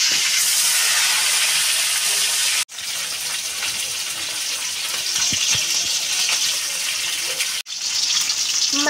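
Oil is poured into a hot cooking pan, a loud, steady hissing sizzle that runs nearly nonstop with two brief breaks, no voices heard.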